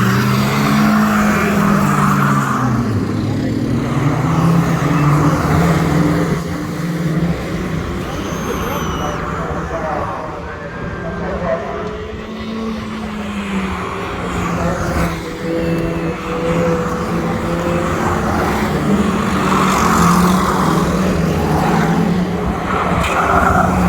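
Stock cars and 2-litre banger racing cars at the Cowdenbeath race track, their engines a steady, loud drone that rises and falls throughout beneath continuous commentary.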